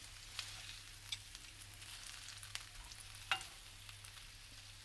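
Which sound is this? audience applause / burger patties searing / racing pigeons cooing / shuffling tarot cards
burger patties searing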